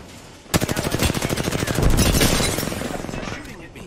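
Rapid automatic gunfire in a multiplayer shooter game, a loud burst of evenly spaced shots that swells into a denser roar of fire and then tails off, with a voice talking over it.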